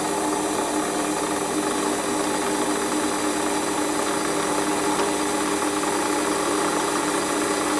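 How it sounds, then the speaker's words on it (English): A Warco metal lathe runs steadily while centre drilling a part, giving a constant dense whirring and cutting noise at even loudness throughout, close up with no speech. "first thing we do is centre drill it"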